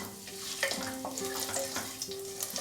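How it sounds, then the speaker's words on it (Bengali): Whole cumin seeds sizzle in hot oil for a Bengali veg mutton curry, a faint steady crackle and hiss with light stirring clinks throughout. "ফোড়নটাকে ফ্রাই করে নেব 10-15 সেকেন্ড।"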